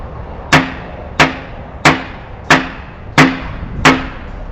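Six sharp, evenly spaced strikes against a nanometallic coated surface, each a bright ringing tap with a short decaying tail, about two thirds of a second apart, close and clear with no talking.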